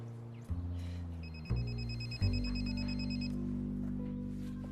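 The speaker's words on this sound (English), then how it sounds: "Your phone's ringing." A phone rings indoors with a repeating electronic trill, its pattern fairly faint over a low sustained musical drone that swells in steps.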